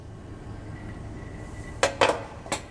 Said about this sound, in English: I'm just gonna put my sheermal on top of it and bake it approximately at 230 degrees for 7 to 8 minutes in a hot oven